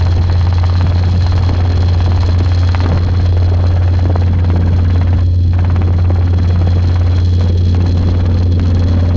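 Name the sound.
Robinson R22 helicopter in flight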